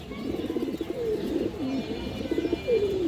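Repeated low, throaty coos from a big-sized pigeon rolling in short phrases, close by, over a faint background hum.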